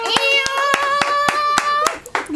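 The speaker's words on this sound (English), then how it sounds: "round of applause" Around eight sharp, evenly spaced hand claps ring out close by under a sustained sung or voiced tone, the clapping stopping near the end as the voice continues briefly.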